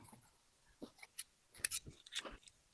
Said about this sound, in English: Cut straight across, same spot.